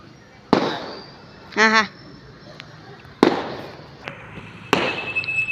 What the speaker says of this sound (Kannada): ನೋಡಿ ಪಟಾಕಿ ಡಮ್ ಡಮ್ ಡುಮ್ ಡುಮ್ ಮುಗಿತಾ